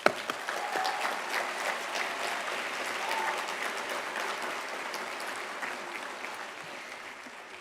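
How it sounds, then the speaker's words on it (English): Steady applause from a large audience at a high school graduation ceremony, a dense wash of clapping that stays fairly even in loudness for several seconds, alone without talk. "for their prelude and processional this afternoon with a round of applause"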